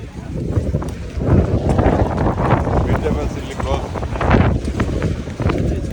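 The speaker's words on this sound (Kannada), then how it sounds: "ಗಾಳಿ ಜೋರಾಗಿದೆ, ಅಂಗಡಿ ಇಟ್ಟು ಪರದಾಡ್ತಾ ಇದ್ದಾರೆ." Strong wind roars and buffets the microphone throughout at an outdoor farmers market in the USA, with people talking beneath the gusty rush.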